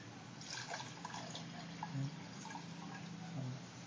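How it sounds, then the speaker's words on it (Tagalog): Water trickles and drips faintly into a container at the start of a dancing-noodle experiment, a soft continuous liquid sound with small splashes and no talking. "First, we add the water."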